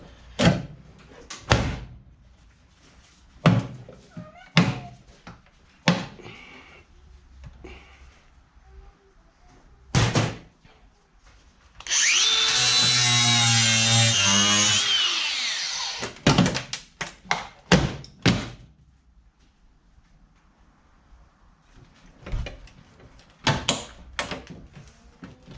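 An angle grinder, once wired to 380 volts, whirs loudly for about three seconds with a steady motor whine, set among scattered sharp knocks and clatter before and after.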